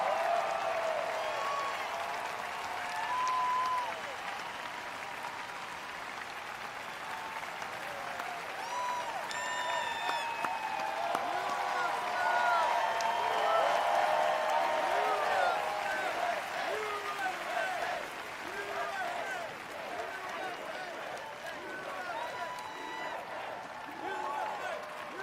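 A large crowd at an outdoor Independence Day 250th anniversary speech in Washington, DC applauds steadily and loudly, with cheers and shouts mixed into sustained clapping, and voices heard throughout.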